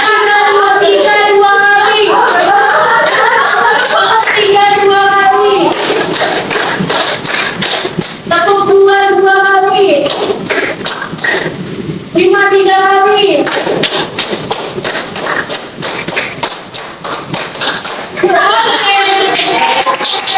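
A class plays a hand clapping game: bursts of sharp, loud group claps in five-count patterns repeat several times, with an adult voice calling out between the rounds.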